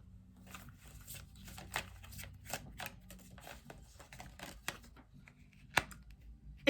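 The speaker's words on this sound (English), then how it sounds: "I promise that this is well shuffled." Tarot cards being shuffled by hand, a quiet run of soft riffling slaps and papery flicks in irregular bursts, close and mostly alone apart from a few sharp clicks.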